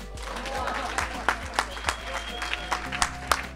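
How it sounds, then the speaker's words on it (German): Applause for a prize winner at a beer bottle-cap contest draw, scattered moderate clapping with sharp individual claps standing out over a low hum, a voice speaking briefly over it. "Elisabeth Wieser, Applaus bitte."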